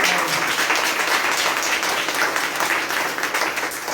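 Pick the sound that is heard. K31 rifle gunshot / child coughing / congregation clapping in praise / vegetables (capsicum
congregation clapping in praise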